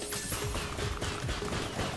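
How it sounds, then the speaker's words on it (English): Rapid, continuous gunfire from an enemy's cannon fired like a minigun in the video game Spyro Reignited Trilogy, a dense unbroken barrage filling the whole stretch at steady loudness. "that guy has a cannon, which is clearly single fire, but he's using it as a minigun"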